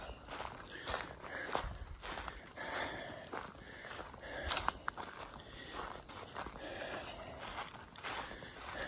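Footsteps crunching acorns on a steep, narrow hiking trail, with a quiet, irregular series of crackling steps close by that continue throughout against faint outdoor background.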